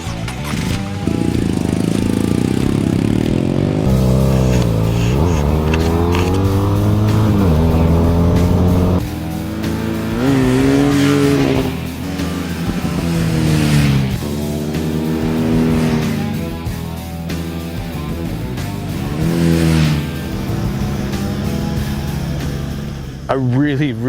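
A torquey, grunty motorcycle engine drones steadily while riding, its pitch rising and falling through gear changes, with a voice talking over it.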